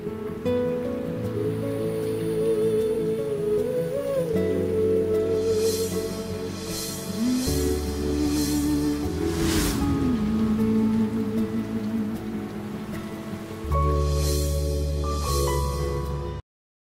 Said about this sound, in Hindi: आज बारिश होगी।